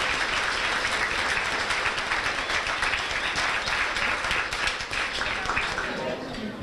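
Banquet crowd at a high school winter sports dinner gives the kitchen staff a sustained round of applause, dense and even throughout before tapering slightly at the close.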